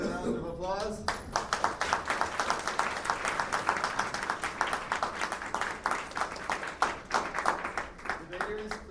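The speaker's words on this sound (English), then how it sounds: "let's give all the debaters another round of applause" An audience at an international English friendship debate claps for the debaters, a dense sustained round of applause lasting several seconds, close and fairly loud, with brief voices at the start and end.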